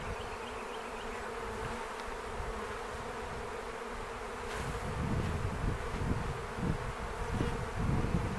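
Dense, steady hum of honeybees buzzing inside a beehive box during a hive split, an unbroken drone that thickens and grows slightly louder partway through, with no voices.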